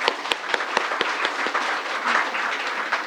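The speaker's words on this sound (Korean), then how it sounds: "우리 선교사님들께 응원과 격려의 박수를 한번 보내주셨으면 좋겠습니다" Church congregation applauding returning missionaries after a Philippines mission report, dense sustained clapping from a crowd with several sharp, distinct claps punctuating the first half.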